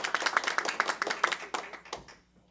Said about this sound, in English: CJ, a round of applause.